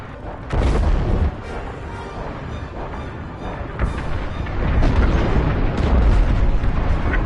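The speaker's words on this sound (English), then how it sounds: "The frigate is about to explode" A frigate explodes in a deep, rumbling series of booms, loud heavy blasts that rise and roll on into a sustained roar, building stronger toward the end.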